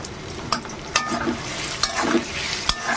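Chopped onion and green chilies frying in a pan, steady sizzle broken by periodic scraping strokes of a spatula roughly every second, close and moderately loud without speech.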